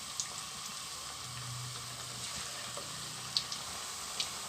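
Vegetable pakora batter frying in hot oil gives a soft, steady sizzle with a few faint pops and crackles, quiet and close, with no talking.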